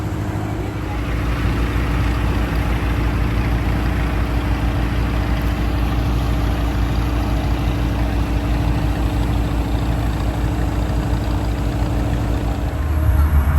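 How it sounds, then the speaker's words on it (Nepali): A ferry's engine, just started on the Brahmaputra River, rumbles low and steady, a heavy idling hum that holds evenly throughout with a slight swell at the very end. "हाम्रो फेरीको इन्जिन स्टार्ट भएको छ भर्खरै"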